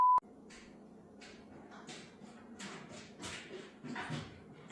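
A dog named Dexter whimpers and snuffles in a quiet room, soft breathy whines and short yips coming in irregular bursts, faint and close, after a short tone at the start.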